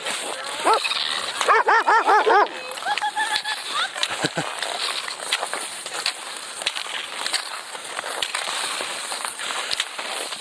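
A few dogs barking in short bursts, fairly close, on a snowy golf course in Toronto where people are cross-country skiing, followed by steady outdoor background noise.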